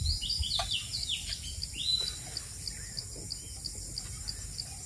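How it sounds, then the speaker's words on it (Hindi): Several birds chirp and whistle in short, repeated calls in a forest against a steady insect-like background hiss, moderately distant, with no voices. "अभी और भी कई सारे चिड़िया आ गए, सुन रहे हैं ना आवाज़ों से पता लग रहा होगा आपको।"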